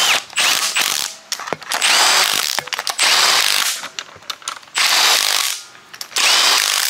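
Engine bolts on a Ford Fairmont engine being tightened with a ratchet wrench, heard as loud, close bursts of rapid ratcheting clicks separated by brief pauses.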